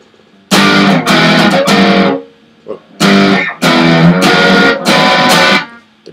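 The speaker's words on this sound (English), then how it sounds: "So I've got the distortion setting on my amp." Electric guitar played through an amp on its distortion setting for rock rhythm practice, heard as loud, sustained overdriven strummed chords in two bursts of several strokes with a short quiet gap between them, no talk.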